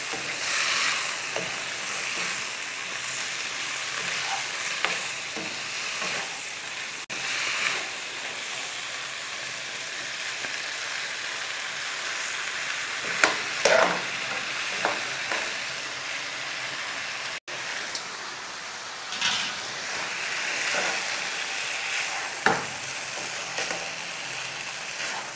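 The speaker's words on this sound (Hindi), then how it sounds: "तकरीबन 1 मिनट हम इसको मिक्स करेंगे।" Leftover curry and rice stirred in a pan over a full flame, a steady loud sizzle with scraping spoon strokes and occasional clinks running continuously throughout.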